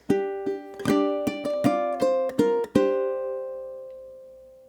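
A ukulele plays the first bar of the verse: a steady run of sharp plucked notes in a groove, each one ringing briefly, closing on a sustained note that fades out alone.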